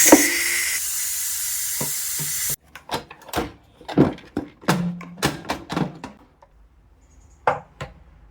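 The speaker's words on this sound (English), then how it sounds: "we're going to switch the valve to venting to release any remaining pressure" Steam from a pressure cooker valve switched to venting after cooking chili, a loud steady broadband hiss for about two and a half seconds that cuts off abruptly, followed by scattered clicks and clunks.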